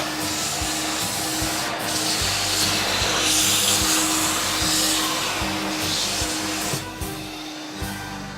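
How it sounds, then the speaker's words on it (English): A wet-vac steadily draws excess moisture out of a colorful rug, a continuous broadband suction roar that holds fairly loud throughout with slight rubbing variations, then eases off near the end. "we're going to actually vacuum this to remove some of that excess moisture"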